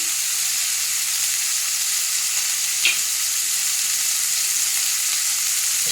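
Chopped tomatoes with garlic and salt fry and sizzle in a pan as they are stirred, a steady close hiss with one brief scrape of a utensil midway.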